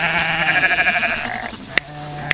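A sheep on a small farm gives a loud, wavering bleat close by, followed by a couple of sharp clicks.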